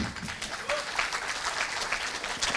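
Audience at a film festival conversation session claps, a brief, moderately loud burst of applause with distinct hand claps, continuing steadily for a couple of seconds.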